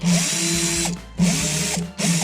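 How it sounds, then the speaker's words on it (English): A power drill boring holes in plastic for a recycled hummingbird feeder whirs in three bursts, with steady whining spins broken by brief pauses, close and loud. "Poking the hole first and then putting your drill through is much easier"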